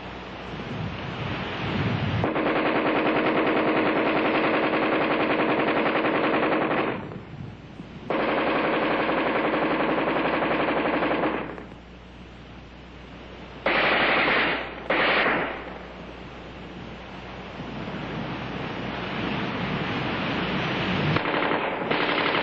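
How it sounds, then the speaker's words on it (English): An Armalite AR-10 rifle fires long, loud bursts of automatic gunfire, offhand against a man-sized target at combat range, with dense sustained volleys broken by brief pauses and short sharp shots near the end. "offhand firing against a man-sized target at combat range, the AR-10 is in a class by itself"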